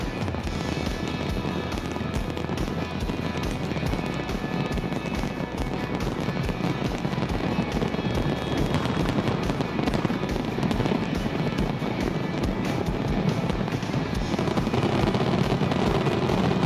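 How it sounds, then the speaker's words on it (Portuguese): New Year's fireworks over Copacabana beach crackle and boom in a dense, continuous barrage, with rapid overlapping bangs and rumbling from a large crowded display. "De queima de fogos em Copacabana. Um espetáculo lindo, emocionante"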